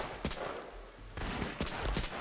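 Gunfire in the video game Medal of Honor Rising Sun, several rapid bursts of shots in quick succession, sharp and close, with brief pauses between volleys.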